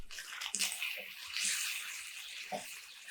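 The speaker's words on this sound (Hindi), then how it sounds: "अब हम इसमें डालेंगे 1 कप पानी।" A cup of water is poured into minced meat frying with garlic, giving a splashing rush with a few gurgles and a sharp hiss as it hits the hot pan, close by.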